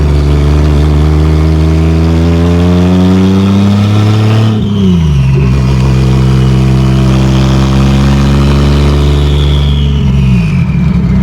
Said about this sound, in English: Man, that turbo's still really loud.